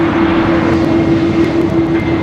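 An airliner on its takeoff roll at Sydney Airport, a loud steady engine roar with a sustained whine, continuous and close for the whole stretch, with no talk over it.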